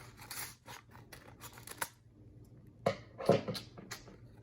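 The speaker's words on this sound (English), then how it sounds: "Let's open up this card." Packaging around a Chase Sapphire Preferred credit card is torn and handled, giving sharp crinkly rustles and snaps in bursts, loudest near the end, with no talking.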